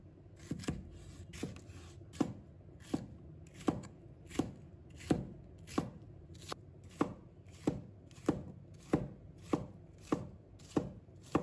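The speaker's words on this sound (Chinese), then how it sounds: "再准备红辣椒，把它切成片。" A knife slicing red chili on a cutting board: a quick, evenly spaced run of crisp chops, about a dozen and a half, close and distinct over a quiet background.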